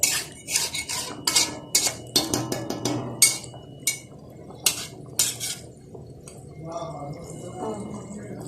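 Chicken bhuna with spices is stirred and roasted in a pot, a metal spoon clinking and scraping rapidly against the sides in a busy burst that eases into a softer simmer near the end.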